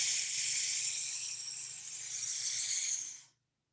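A long, steady hiss of breath pushed out through the teeth on an S, running about three seconds before it cuts off into silence, close and fairly quiet, with no voice over it.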